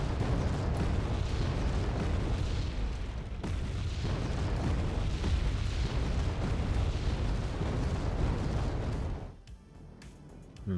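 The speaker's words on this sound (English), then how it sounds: "So much artillery." Continuous artillery fire in the Wargame Red Dragon video game booms and rumbles, with shell impacts rolling one after another as a heavy, sustained barrage before dropping away sharply near the end.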